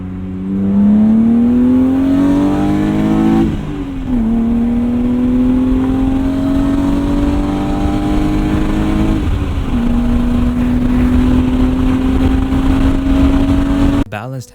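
BMW E36 M3 with its inline-six engine, driving with a steady, loud drone that climbs through the gears in long sweeping pulls, shifting down briefly before rising again.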